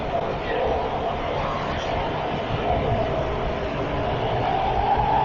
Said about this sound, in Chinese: 现在呢，地铁已经快要进站了啊